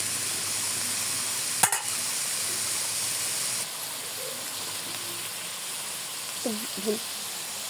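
Bitter gourd with shrimp sizzling in a pan on medium heat, a steady loud hiss of frying that carries throughout, with a brief clink of a utensil and a faint voice near the end.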